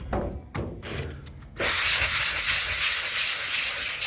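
A coarse sanding disc grinds across the hood of a 1978 Chevy C10 truck, a few short scraping passes first, then a loud continuous abrasive rasp close up.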